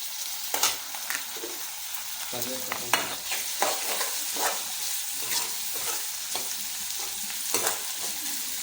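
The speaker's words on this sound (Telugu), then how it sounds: "గోల్డెన్ కలర్ వచ్చినంత వరకు వేగించుకోవాలి" Maggi noodle ingredients with coriander leaves frying in a pan until golden, a steady close sizzle broken by repeated scraping stirs throughout.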